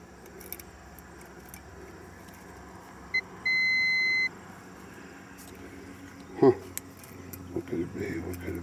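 A short electronic chirp from fireworks equipment followed by one sustained beep of about a second, set against quiet background noise and a few brief clunks.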